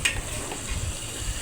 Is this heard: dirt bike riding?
no